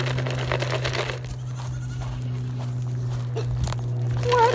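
A goat on a farm bleats and walks along over a constant low machine hum, with a short bleat toward the end.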